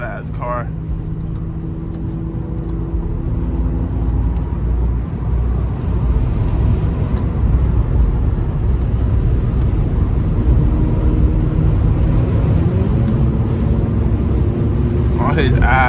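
A BMW M5 driven on a road, its engine a loud, constant low drone heard from inside the car for the whole stretch, with a burst of voices at the start and again at the end.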